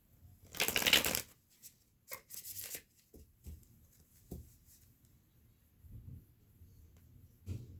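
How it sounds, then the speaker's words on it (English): A deck of tarot cards is shuffled and cut in a quiet room, producing a loud riffling burst followed by a few softer, scattered shuffles and taps, close and with no talking. "I went ahead and shuffled and cut the deck"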